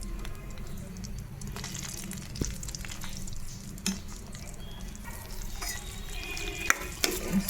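Ground tomato mixture for tomato pickle tipped into a hot pan and stirred, giving a steady close sizzle with spoon scrapes and a few louder knocks against the pan.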